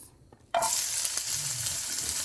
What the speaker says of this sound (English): I'm gonna put some salt, and I'm gonna caramelize my onions